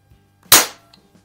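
One sharp, loud crack from a Crosman multi-pump .22 caliber air rifle fired at a soda can, close by and fading quickly, with no other sound around it.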